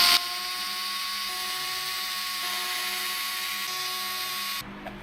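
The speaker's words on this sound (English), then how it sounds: "Step 1, 2mm driver on these 4 screws." A power driver fitted with a 2mm bit whirs steadily as it backs out four screws on a Redcat Machete RC truck, a continuous high-pitched buzz that stops abruptly near the end.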